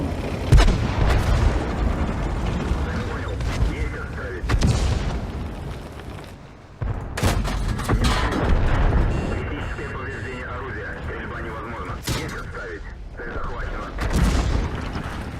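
Tank cannon fire and shell impacts from the World of Tanks video game come as repeated heavy booms and blasts, several close and loud, with a steady din of battle between them and a voice talking over parts of it.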